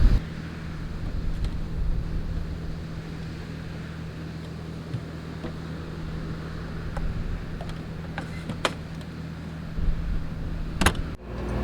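Wind buffets a microphone at a beach campsite beside a truck camper, a continuous low rumbling roar with a steady hum underneath and a few sharp gust thumps near the end.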